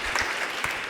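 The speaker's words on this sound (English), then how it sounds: "So I'd like to give her a special round of applause." A conference audience at a financing-water roundtable claps steadily for a speaker, a brief dense patter of hands with no talk over it.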